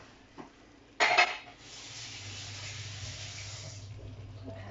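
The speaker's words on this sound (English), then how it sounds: "I'm just going to wash my hands quickly." Running tap water pours steadily into a kitchen sink while hands are washed, after a short clatter of dishes, during salmon tortellini cooking.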